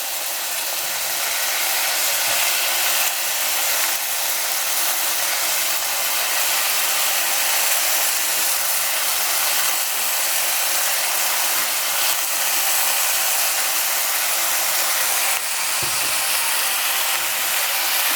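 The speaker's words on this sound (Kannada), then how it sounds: "ಈಗ ಡೈರೆಕ್ಟಾಗಿ ಹೀರೆಕಾಯಿನ ಇದ್ರೊಳಗಡೆ ಹಾಕ್ತಾಯಿದ್ದೀನಿ" Chopped ridge gourd tipped straight into a hot frying pan, giving a steady, broad hiss of sizzling oil that holds evenly throughout, with no talking.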